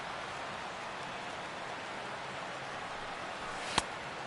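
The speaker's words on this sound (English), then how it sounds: "EK, how'd you like playing in the rain?" Rain falling on the ballpark in the MLB The Show 16 baseball video game, a steady, even hiss of downpour throughout, with one brief sharp crack near the end.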